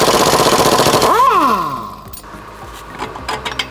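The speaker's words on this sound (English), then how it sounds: "Right now I'm removing the lower shock bolt" A power tool whirs loud and close while removing the lower shock bolt on a Dana 44 axle, dropping in pitch and winding down midway, followed by quieter clanks and shop noise.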